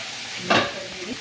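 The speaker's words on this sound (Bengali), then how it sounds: "এই সবজিগুলো সিদ্ধ হবে তো, সবজিগুলো একটু ভাজা ভাজা করে নেবো।" Vegetables with green chilli stirred and frying in a pan for a village-style Bengali pui shak dish with fish head: one short, bright sizzling scrape midway, then a quiet, faint hiss.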